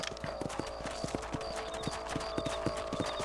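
Horse hooves clip-clop in a steady trotting rhythm over a constant mechanical hum, with faint higher tones layered on top, from Red Dead Redemption on PS5.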